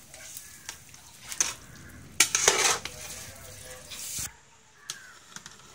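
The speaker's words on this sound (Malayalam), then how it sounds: "നമ്മൾ ഇതിലെ അരി ഇടാൻ പോവാം." Soaked rice is stirred into a pot of boiling water for egg biryani, a spoon scraping and clinking against the metal pot in scattered bursts, near and fairly quiet, with no talk.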